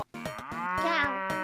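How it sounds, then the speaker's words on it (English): A cow moos once in a long, loud, drawn-out call with a rising, wavering tone, close and clear with no talk over it. "And cow."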